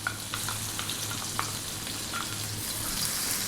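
Onions and curry leaves fry over high heat in a pan with star anise, stirred constantly. A steady, close sizzle runs throughout, with small pops and scraping taps.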